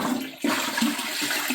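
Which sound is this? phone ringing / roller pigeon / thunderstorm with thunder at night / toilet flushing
toilet flushing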